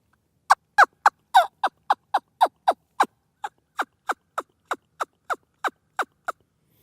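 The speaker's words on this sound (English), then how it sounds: "But the wing bone call, to make a sound on it, it takes a lot of practice." A rapid series of about twenty sharp, high yelping clucks from a wing bone turkey call, evenly spaced and close, with silence between notes.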